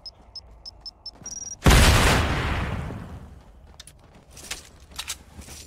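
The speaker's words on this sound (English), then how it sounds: "You mind if I explode?" A loud, sudden boom from a video game explosion bursts out after a few short electronic beeps, then decays into a long rumbling roar, with scattered smaller pops and clicks following.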